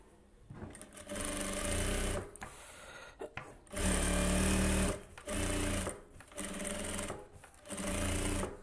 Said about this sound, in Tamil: அந்த லைனிங் மட்டும் எடுத்து விட்டுட்டு தையல் போட்டுடலாம்.